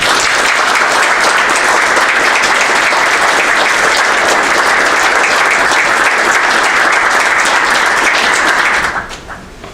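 Steady, dense applause from an audience welcoming Father Paul Mankowski, a Jesuit priest, loud and continuous for about nine seconds before abruptly fading out.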